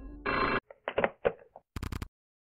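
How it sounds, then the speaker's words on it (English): A telephone rings in a short burst of electronic trills, followed by a few clicks and knocks and then another brief ring, fairly quiet and close, with no voices. "Answer the phone."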